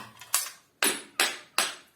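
Four heavy hammer blows strike an old water heater being broken up for scrap, sharp metallic clanks with short ringing decay spaced roughly evenly, close and loud, with no talk.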